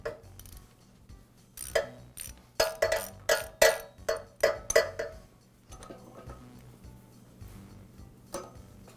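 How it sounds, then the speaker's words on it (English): A hex socket ratchet works a male adapter loose from a Karcher pressure washer, producing a quick run of sharp, close metallic clicks, then sparser scraping and clicks, with no talk. "Now I'll use a hex socket to remove the male adapter."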